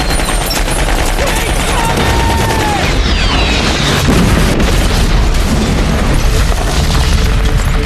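Explosions and rapid gunfire from Ridley Scott's 2001 war film Black Hawk Down form a dense, loud, continuous barrage, with heavy booms and chattering bursts layered over shouting voices throughout.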